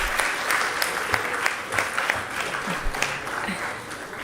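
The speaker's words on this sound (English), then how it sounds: "I think he deserves a round of applause." An auditorium audience at a university foundation day lecture claps for an event director, a dense sustained round of applause with individual sharp claps standing out, while a voice talks briefly over it.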